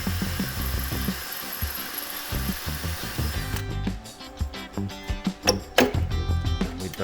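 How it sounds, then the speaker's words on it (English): A power drill with a spot weld drill bit bores out spot welds on an Alfa Romeo 145 Cloverleaf body panel, giving close, uneven bursts of grinding metal with short pauses and clanks between them. "I am using a spot weld drill bit so it doesn't drill into the metal behind."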